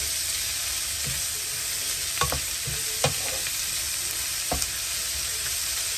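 Mushroom butter masala sizzles steadily in a pan while a spoon scrapes and stirs through it, giving a few distinct knocks against the metal over the constant frying hiss.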